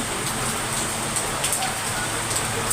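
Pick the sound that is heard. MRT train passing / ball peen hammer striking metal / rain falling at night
rain falling at night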